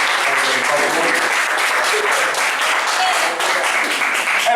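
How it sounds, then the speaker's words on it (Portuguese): A church congregation applauds Jesus with loud, dense, unbroken clapping that fills the room, with voices faintly audible within the applause. "Você assenta, aplaude a Jesus."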